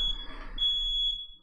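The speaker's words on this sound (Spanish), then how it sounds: "Están escuchando un silbido de algo, parece que es una de las alarmas de la casa que se me ha disparado" A house alarm set off by the heating gives a steady, shrill electronic whistle, a continuous high tone that holds almost unbroken for over a second over a faint murmur of room noise.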